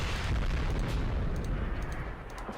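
Artillery explosions in the wargame Combat Mission: Black Sea, a sustained low rumbling boom of shelling that rolls on steadily for a couple of seconds, dense and moderately loud with no voices over it.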